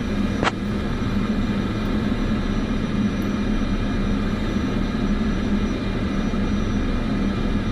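An airliner idles on the runway before takeoff in Microsoft Flight Simulator 2024, giving a steady low engine hum with a faint whine, even and unchanging throughout.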